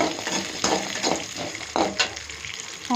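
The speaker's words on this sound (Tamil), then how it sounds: "நம்ம எடுத்து வச்சுருக்க வெங்காயத்தை போட்டு வணக்கிடலாங்க. இஞ்சி அது கூடவே போட்டுட்டேங்க." Chopped onions and ginger frying in a pan, a close, lively sizzle that swells with each stir, with soft scraping strokes and a light metallic clink near the end.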